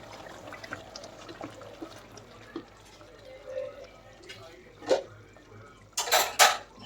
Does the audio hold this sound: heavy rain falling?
no